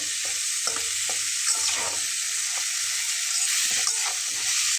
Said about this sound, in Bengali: দশ মিনিটের মতো হাই হিটে এটাকে একটু ফ্রাই করে নিয়ে আমি একটু ঢাকনা দিয়ে ঢেকে দিচ্ছি